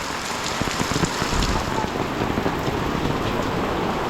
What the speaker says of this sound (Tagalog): ang lakas ng rain